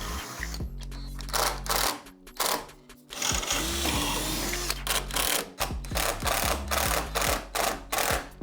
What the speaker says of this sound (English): So this is just how the screws are going in.